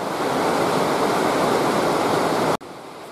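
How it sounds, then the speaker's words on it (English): Heavy rain pours steadily during a storm over a horse arena, a loud, dense, constant wash of noise that suddenly cuts off and drops in level near the end. "Got that storm rolling in. It's really a pouring."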